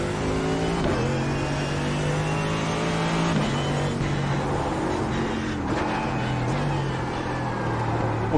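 A Mercedes GT3 race car in iRacing at Mount Panorama roars continuously up close, its engine pitch climbing and dropping through gear shifts, with faint tire noise as the car slides.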